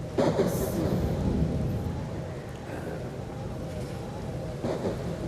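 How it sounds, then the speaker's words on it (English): A thunder and rain storm sound effect fills a school stage play as a dense low rumble under a steady hiss of rain, with a few louder cracks, continuous and fairly loud throughout. "You think there's going to be a storm? Storm? Oh, bound to be."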